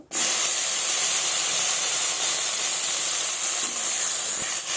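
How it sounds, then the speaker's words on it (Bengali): Okra frying in the hot oil left from frying a duck egg, a steady, loud hiss that holds evenly throughout with no talk. "ওই তেলেই আমি এখন ঢেঁড়সগুলো ভেজে নেব"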